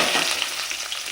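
Two green chilies frying in hot oil after popping mustard seeds for tomato thokku, a bright, dense close-up sizzle with crackly spatter throughout.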